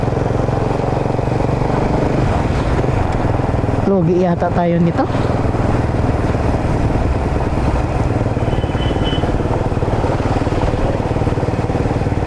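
A motorcycle engine idles steadily and close up throughout, a constant low rumble, while someone talks over it for a moment.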